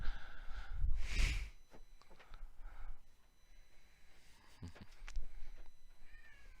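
A house cat meows and caterwauls in a few short, uneven calls, fairly faint and mixed with breathy noises and low background rumble.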